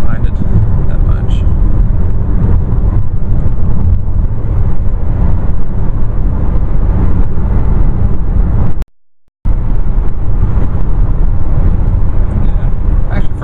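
A Chevrolet Cruze cruising on State Highway 121, its steady low road rumble and wind roar filling the cabin at close range, broken only by one brief dropout.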